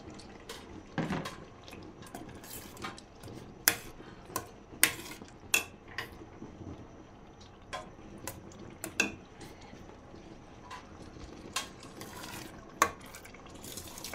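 A spoon stirring pepper stew (ayamase) in a metal pot gives sharp, irregular clinks and scrapes, close and moderately loud, scattered over a bed of soft bubbling and sizzling, with no talking.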